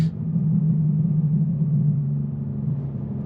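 A BMW 3.0 CSL engine holds a steady, deep idle-like rumble with a strong low hum throughout, heard close and even, with no voices.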